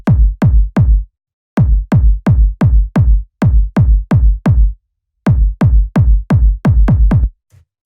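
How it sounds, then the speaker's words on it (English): Fat, punchy kick drum sample in an electronic track: a run of loud, tight, booming hits in an uneven syncopated pattern, with short gaps between phrases, played alone. "So this kick's really simple. It's just about getting like a really fat and punchy kick sample"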